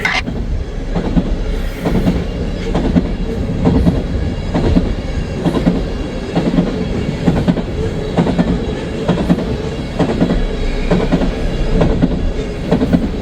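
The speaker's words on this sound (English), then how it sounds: "Southbound ethanol train." A southbound ethanol freight train rolls past close by, a continuous loud rumble with rhythmic clickety-clack of wheels over rail joints and some metallic squeal, with no talking.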